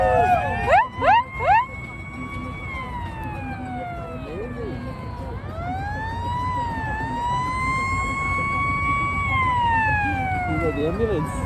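An ambulance siren wails in long rising and falling sweeps over traffic rumble, preceded by a few quick yelping bursts.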